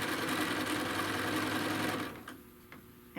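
Close, steady whir of a sewing machine stitching through the thick layers of a bag, running continuously for about two seconds before stopping, leaving a few faint clicks.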